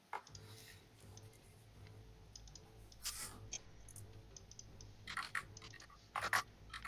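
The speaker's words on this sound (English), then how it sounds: "I hear the typing." Light clicking keystrokes on a computer keyboard, quiet and scattered in short bursts over a low background hum, with a few louder clusters near the end.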